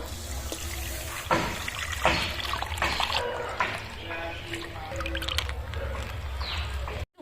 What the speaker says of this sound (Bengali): আমি এক লিটার দুধ ঢেলে দেবো